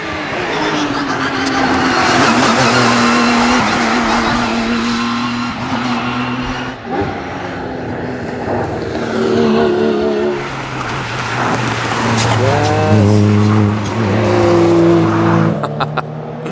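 An uncommon car drives past at close range, its engine note loud and steady with rising and falling tones as it passes, brief tyre noise, all heard alone without talk.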